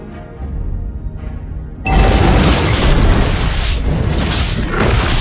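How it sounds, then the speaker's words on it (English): A turret is destroyed in Mobile Legends, a sudden loud booming explosion that bursts in after a quieter stretch and rumbles on with crumbling debris. "Your team destroyed the turret!"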